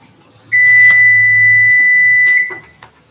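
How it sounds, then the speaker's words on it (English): A loud, steady electronic alarm beep like a smoke detector sounds for about two seconds, then cuts off, during a shakshuka cooking session with a low hum beneath. "You're about to have a beep."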